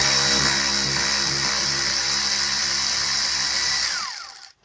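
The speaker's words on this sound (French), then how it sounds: "moi j'ai un petit tournevis électrique," A small electric screwdriver runs steadily for about four seconds, loosening the engine cover screws on a Citroën C3 Phase 3 PureTech petrol car, then winds down and stops. It is close and fairly loud, with no talking.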